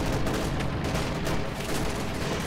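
Dense battle gunfire in Company of Heroes 2, including Colt pistol shots, as a rapid, overlapping clatter of cracks and booms, loud and continuous throughout with no voices.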